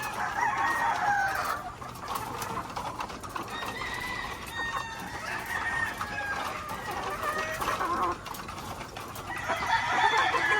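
Brood cock roosters and laying hens in a flock fill the air with continuous clucking and repeated crowing, a busy, layered din that rises and falls without pause.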